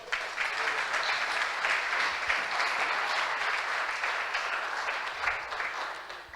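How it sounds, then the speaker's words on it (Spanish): A church congregation at a Spanish-language Christian service claps in praise to the Lord, an even, sustained sheet of applause from many hands lasting over six seconds, moderately distant and without talk over it. "Dale un aplauso al Señor"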